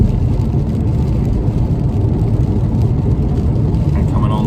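A BMW 2 Series Gran Coupe M Sport driving on rain-soaked roads after crossing the Humber Bridge, a dense steady rumble of tyres on wet tarmac and engine noise filling the cabin, with a voice talking over it.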